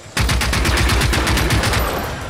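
Rapid automatic gunfire in the video game Generation Zero, a steady burst of evenly spaced shots that runs loud and unbroken for about two seconds, coming from behind the player.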